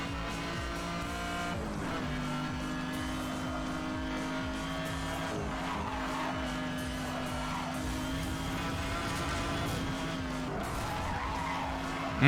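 Race car engine roaring steadily at high speed in Need for Speed: Hot Pursuit, a sustained drone with shifting pitch, tire squeal and skidding layered over it throughout.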